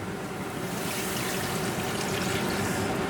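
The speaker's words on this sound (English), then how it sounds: "now we're gonna put in about 1 liter of water." About a liter of water pours steadily into a cooking pot with sautéed onions and spices for tomato soup, a constant close, hissing splash without pauses.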